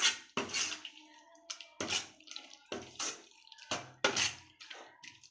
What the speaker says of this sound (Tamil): இப்போ இந்த தண்ணியை வந்து நான் மட்டனோட சேர்த்துக்கிறேன்.